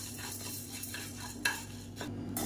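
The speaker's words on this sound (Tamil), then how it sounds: "ஒரு டம்ளர் அளவுக்கு உளுந்து கொஞ்சம் நல்லா சிவந்து வர அளவுக்கு வறுத்துக்கலாம்" Urad dal dry roasting in a pan without oil, a soft continuous rustle of stirred lentils with gentle scraping strokes and an occasional sharper clink of the spoon against the pan.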